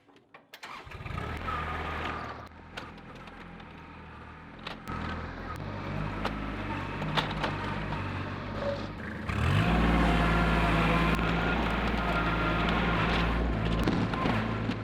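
A tractor engine runs steadily at a rural new-construction site during final grading work, a continuous low rumble that surges louder and heavier partway through, with no talk over it.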